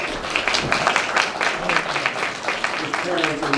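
Audience applause at a city council meeting, steady clapping that fills the room at moderate level, with voices and speech mixed in over it toward the end.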